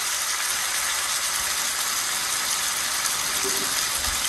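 A steady, loud, hissing sizzle of pork frying in hot oil, continuous throughout with a faint clunk near the end.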